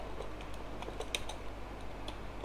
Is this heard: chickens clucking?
no